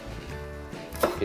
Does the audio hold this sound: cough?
no